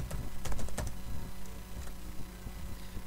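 Keys clack in a quick irregular run on a computer keyboard while a Python print statement is typed, close and fairly loud at first, then thinning to sparse taps with a faint steady hum underneath.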